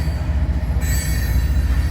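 Freight cars of a loaded corn train rolling past close by, a dense, loud rumble of wheels on rails topped by sustained high-pitched flange squeal throughout.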